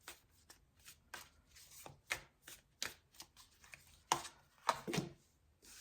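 Tarot cards are shuffled by hand in a series of crisp riffles and soft slaps, each a separate burst about every half second. The sound is close and quiet.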